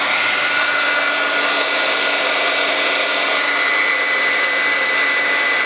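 A heat tool blows continuously on embossing powder and glue on a handmade card, a loud, steady whirring hum with a faint tonal whine, unbroken for the whole stretch.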